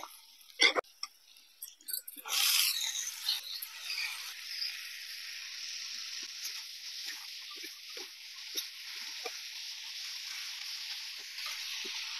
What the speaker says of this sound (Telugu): ఉల్లిపాయలు మగ్గాయి కదండి, ఇప్పుడు మామిడి కొక్కులు వేసుకుందాం.